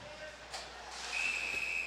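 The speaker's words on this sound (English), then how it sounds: "We have a whistle here and a penalty." A referee's whistle sounds at an ice hockey game, a thin steady tone rising out of arena hiss and holding through the second half, with no voices over it.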